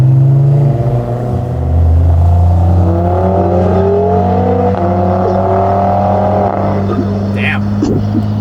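A loud BMW G80 M3 engine with an HFD Valvetronic midpipe exhaust drones and revs close by, its pitch rising and sliding through gears, with a steady low rumble underneath throughout.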